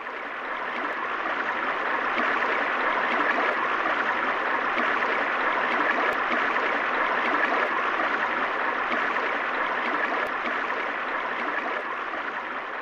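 Water pours from bamboo troughs into a mountain stream as a steady, loud, rushing splash that holds unbroken for about thirteen seconds, with no voices.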